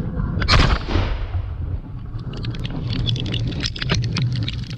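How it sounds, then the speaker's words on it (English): A controlled detonation of 350 active landmines in the Golan Heights by the Israeli army starts as a loud, sharp blast, then fades into a long rumbling roll with scattered cracks. "it was probably the detonation of 350 active landmines in the Golan Heights"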